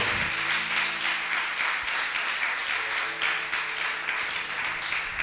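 A church congregation applauding and cheering during a sermon: steady, even crowd clapping that fills the room at moderate volume, with no speech over it.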